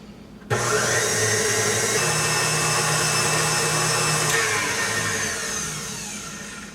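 An electric mixer starts abruptly and runs with a steady, loud whir through sponge cake batter with a hint of orange, holding one speed before easing off and fading slightly toward the end, with no voices.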